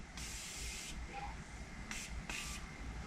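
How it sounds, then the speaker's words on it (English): Setting spray misted over a made-up face in three quick bursts, the first long and the last two short, each a close, bright hiss separated by quiet pauses. "Setting spray."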